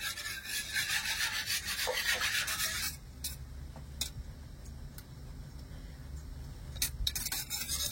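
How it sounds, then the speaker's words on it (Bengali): Powdered milk heating in a wok is stirred constantly, making soft rubbing and scraping strokes against the pan with occasional light ticks of the utensil. "আর যেহেতু এটা গুঁড়ো দুধ, সেজন্য কিন্তু এভাবে অনবরত একটু নাড়াচাড়া করতে হবে"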